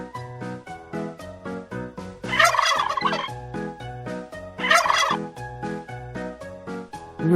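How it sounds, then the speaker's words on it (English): A turkey gobbles repeatedly, a fast rattling warble that swells into two louder bursts and carries on steadily at close range. "Turkey."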